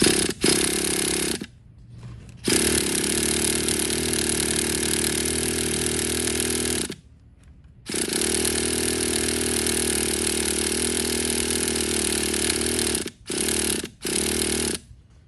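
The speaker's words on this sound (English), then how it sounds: "Let's fire her back up, see if she sounds any better." A vintage Traxxas Nitro Sport RC car's nitro engine runs in loud, buzzing, raspy bursts, cutting out briefly between stretches of screaming revs and ending in a few short blips.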